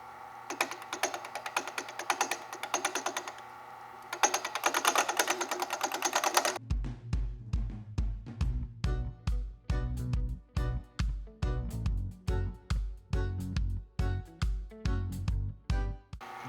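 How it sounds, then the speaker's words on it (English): A WEN 3424 wood lathe on an 8800 stand spins at 520 RPM, making a rapid, even mechanical clatter with a loud rhythmic knock that starts partway through and repeats steadily. It sounds close, with no talking. "I got it at 520 RPMs, and we're gonna fire it up and just see what happens."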